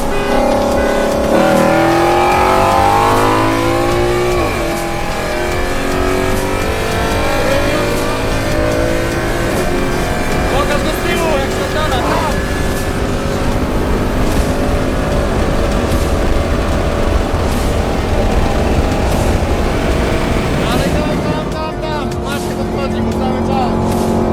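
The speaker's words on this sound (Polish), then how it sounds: "Finalny wyścig Supra VS Mustang." A Toyota Supra and a Ford Mustang race, engines roaring loudly and revving up through shifting pitches, close and continuous, with a voice faintly present beneath the engine noise.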